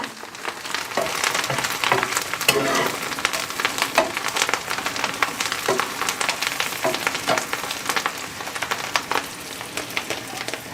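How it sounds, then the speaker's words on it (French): Chicken wishbones frying in a pan with parsley and garlic at a campsite: a steady, crackling sizzle runs throughout with scattered sharp pops and light stirring, moderately close and without talk. "On va finir la cuisson avec le persil et l'ail."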